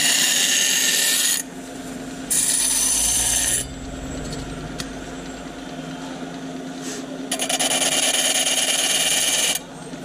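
A tool files a burr off metal at a busy market in Tbilisi, making harsh, close rasping strokes in three long bursts separated by quieter pauses.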